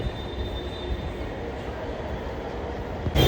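Steady low rumble inside a moving metro train, an even rolling drone with a faint tonal whine, ending in a short louder clatter.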